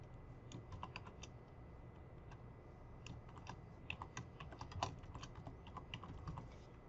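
Quiet, steady typing on a computer keyboard, a rapid irregular run of soft clicking keystrokes at close range with no one talking.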